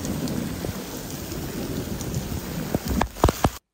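Heavy rain pouring down onto Caribou Lake in the Boundary Waters, a dense steady hiss close by, with a few sharp drops or knocks near the end before it cuts off.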